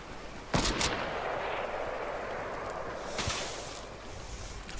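A gunfight close by in the video game Fortnite: two sharp shots early, then a duller shot a few seconds later, heard over a steady wind-like ambient wash.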